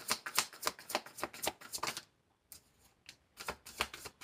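Tarot cards being shuffled by hand: a rapid, fluttering riffle of card edges for about two seconds, a brief pause, then more quick papery bursts, close and fairly soft with no talking.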